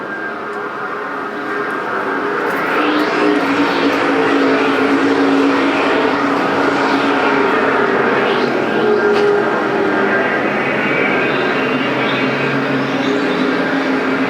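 Street stock race cars roar around the Perris Auto Speedway oval, a continuous loud engine drone with pitch sweeps as cars pass, steady throughout with no talk over it.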